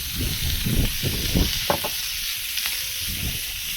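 Onions and corn cooking on a Blackstone griddle, an even sizzle and hiss with several low scraping pushes of a spatula early on and a few light clicks, no speech.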